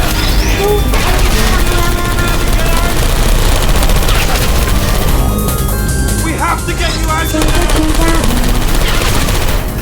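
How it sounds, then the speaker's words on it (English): Loud, dense gunfire in Portal 2 rattles in rapid bursts with booms and crashes, while a voice shouts urgently over the chaos. "look out for gunfire."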